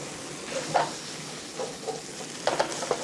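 Potatoes sauté in a pan with a soft, steady sizzle, broken by a few close clicks and scrapes from a stirring spoon.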